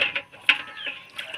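Chickens cluck in a short burst of several quick, chirpy calls, close by and without talk.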